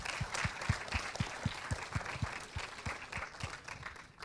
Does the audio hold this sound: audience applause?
yes